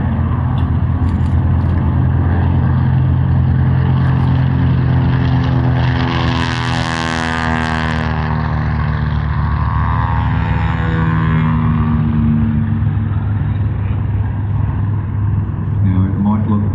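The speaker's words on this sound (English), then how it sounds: "listen to this, the sound of the Grumman Avenger, the largest single-engined aircraft to come from the Second World War" A Grumman Avenger, the large single-engine WWII aircraft, passes at an airshow with a loud, throbbing propeller roar that swells to a peak and fades, while a commentator talks over it throughout.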